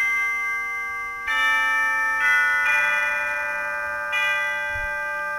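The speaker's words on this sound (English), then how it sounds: "The chimes on the organ are located down on this section of pistons underneath the grate manual. It's a very beautiful chime." Chimes on a Rogers 788L organ ring out in clear sustained bell-like tones, several strikes layering new pitches over ringing ones at about 1.3, 2.3 and 4.2 seconds, loud and alone with no talk.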